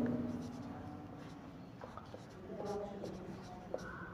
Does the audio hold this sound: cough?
no